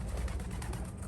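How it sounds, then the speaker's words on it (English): A pigeon coos softly over a low, rumbling background, with a few muffled throaty calls running together in one short, quiet burst. "well, that pigeon was here"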